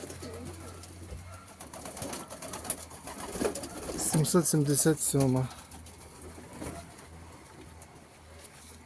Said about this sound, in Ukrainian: Так, це голубочка в нас.